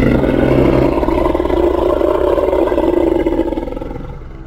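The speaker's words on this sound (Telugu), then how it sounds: "అప్పుడే సింహం రాజుకి ఒక డైనోసార్ అరుపు వినిపిస్తుంది." A deep, sustained dinosaur roar from an animated children's story rumbles loudly and continuously for several seconds before fading slightly at the end.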